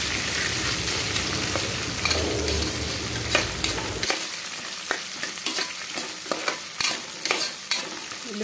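Sliced onions sauté in oil in a pan for semolina upma, a steady broadband sizzle with frequent sharp scrapes and taps of a spatula stirring, close and continuous, the low rumble dropping away midway while the clatter of stirring continues.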